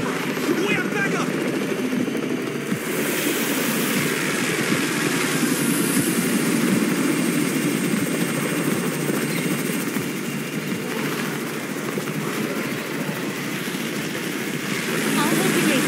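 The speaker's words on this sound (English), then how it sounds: "It's the Raven's chopper! We have backup!" A helicopter arrives in the mobile video game Undawn, its rotor and engine a loud, continuous low drone that stays steady throughout while a voice talks over it.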